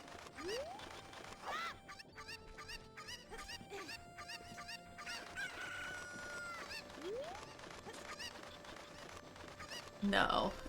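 Chicken from the video game The Legend of Zelda: Ocarina of Time crowing and clucking, several rising crows and quick clucks spread through the clip over quiet game background, ending in a louder burst.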